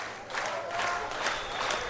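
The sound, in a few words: applause at football match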